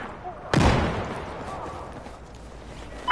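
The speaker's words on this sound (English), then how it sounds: "Gunfire coming your way." A single sharp gunshot bursts out near the start, followed by a long fading rumble and low background noise.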